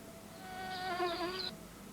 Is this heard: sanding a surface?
no